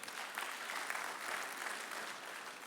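Audience clapping in a conference hall, a dense steady wash of many hands applauding together at moderate level throughout, with no voices over it.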